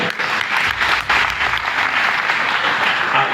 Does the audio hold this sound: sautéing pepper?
no